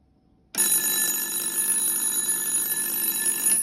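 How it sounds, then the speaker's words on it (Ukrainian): An electric bell in a household electrical panel starts ringing abruptly when mains power returns, a loud continuous metallic ring that holds steady for about three seconds. "Ми чуємо наш дзвінок і знаємо, що нам вже можна вимикати нашу зарядну станцію."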